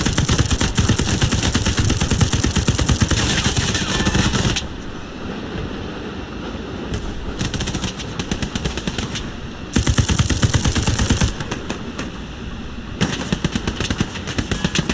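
Machine gun fire from an understaffed Sherman tank storming Omaha beach in the game Hell Let Loose: long, rapid, loud bursts of crackling shots, broken by brief pauses with quieter battle noise between them.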